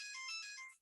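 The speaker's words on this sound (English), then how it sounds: "Hopefully the phone will stop in a second." A mobile phone ringtone plays during an online language-teaching tech session, a bright electronic melody of steady sustained tones, fairly faint and alone, tapering off at the end.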